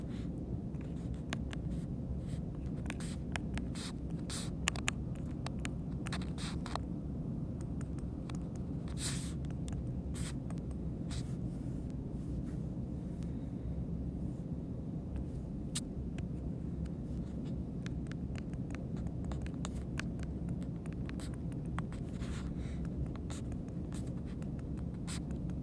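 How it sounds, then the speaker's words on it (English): Pencil or pen scratches steadily on paper while math solutions are written out by hand, a soft continuous scribbling with quick taps and strokes over a low background rumble, no talking. "And I'm going to write them out here right now."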